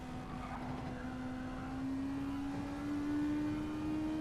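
A Toyota FT1 GT3 race car in a racing video game races at Spa with a steady, droning engine tone that rises gradually in pitch as it accelerates. The engine stays at moderate volume throughout and no one talks.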